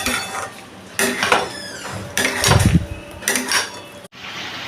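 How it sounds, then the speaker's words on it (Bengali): Fried pointed gourd is stirred with spices in a metal pan, giving a series of close scraping clanks and metallic knocks in uneven bursts, separated by short pauses. "দিয়ে মশলার সাথে আমি পটলটা ভালো করে মিশিয়ে নিচ্ছি"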